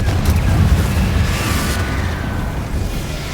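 Fiery Confringo spell blast in the video game Hogwarts Legacy, a loud booming burst up front that rolls into a sustained rumbling roar and slowly settles, with no talking over it.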